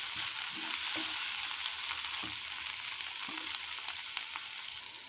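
Brinjal fry coated in masala sizzles steadily in a pan, a continuous close hiss broken by a few soft scraping stirs.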